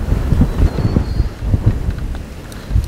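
Strong wind buffets the microphone at a fishing lake during a live feeder fishing match at Decoy Lakes, a loud, continuous low rumble with gusty surges and no talk.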